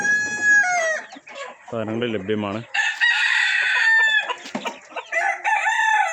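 Gramalakshmi laying-breed roosters on a farm at Chiramangalam near Parappanangadi crow loudly in several rising calls, mixed with clucking, and someone speaks briefly between them.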